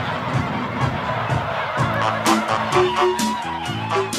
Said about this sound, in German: Sind ja auch echte Freigänger, diese Gänse.